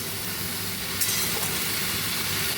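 Ground ginger paste, mixed with water, is tipped into a little hot oil in a pan, giving a loud, steady hiss and sizzle with faint stirring scrapes underneath and no speech.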